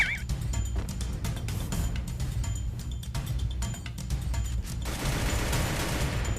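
Gunfire in the mobile shooter Free Fire: dense, rapid bursts of shots crackle continuously and close, with a brief chirping game tone near the start and no audible voices.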